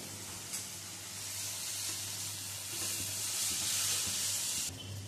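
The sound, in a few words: diced eggplant frying in mustard oil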